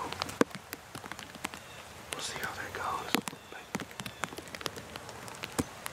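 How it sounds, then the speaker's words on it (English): Rain patters over an opening in a swamp, with scattered drops striking close by in irregular sharp taps over a soft hiss, while a person speaks quietly in a low whisper partway through. "As you can see, it's raining"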